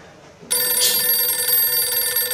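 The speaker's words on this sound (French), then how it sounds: "Ton téléphone sonne." A phone starts ringing abruptly with a loud, steady electronic tone that sounds close by and continues without pause in a home setting.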